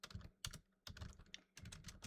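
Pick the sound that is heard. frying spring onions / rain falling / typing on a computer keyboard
typing on a computer keyboard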